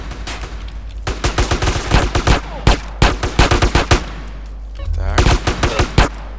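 Gunfire in GTA San Andreas: rapid bursts of automatic shots and separate cracks in a game shootout, loud and close, with short pauses between volleys and a brief spoken word from a player.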